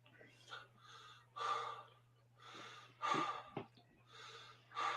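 Heavy, labored breathing after walking back from the toilet, with a person catching their breath in repeated loud gasping inhales and exhales over a low steady hum.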